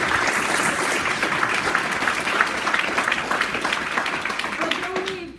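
Audience applause after a Q&A session, dense clapping from many hands sustained at moderate loudness before tapering off abruptly at the end.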